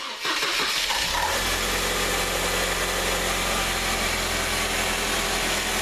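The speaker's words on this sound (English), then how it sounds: "now we're going to start the engine" A Mercedes C230 engine with a newly replaced water pump and belt cranks briefly and starts, then settles into a steady, close, loud idle hum with constant broadband whir.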